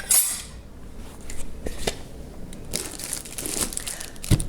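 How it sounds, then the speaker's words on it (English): A lid is set onto a slow cooker holding bean stew, giving a few close clattering knocks and rustles at moderate loudness, with no talking. "now I'll put the lid on it"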